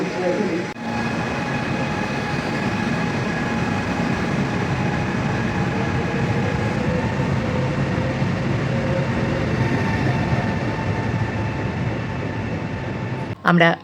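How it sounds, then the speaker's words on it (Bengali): A train in Italy rumbles along steadily from inside a carriage, with a constant low roar, faint tonal whines, and people talking quietly over it. "ট্রেনে উঠে বসে পড়েছি, চলতেও শুরু করেছি।"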